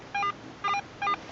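Garrett AT Pro metal detector sounds three short, evenly spaced high beeps during a WW2 relic hunt, loud and clear over light background hiss.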